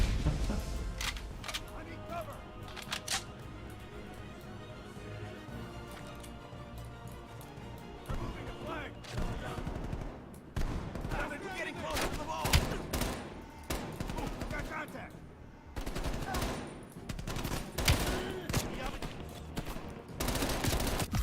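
Rapid bursts of assault rifle fire and heavier shotgun blasts in a Call of Duty match, loud and near, with dense volleys repeating throughout alongside game effects and a voice talking over the action.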